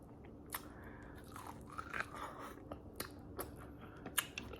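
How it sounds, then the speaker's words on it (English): Someone bites and chews crunchy sweet elote corn on the cob up close, with quiet repeated crunches and snaps of kernels spread across a few seconds and no talk. "This corn is so sweet"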